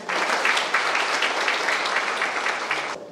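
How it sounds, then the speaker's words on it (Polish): A local Women's Day gathering bursts into hearty applause, dense crisp clapping held steady for about three seconds before cutting off abruptly, with no voices on top. "Wielkie brawa dla Was wszystkich"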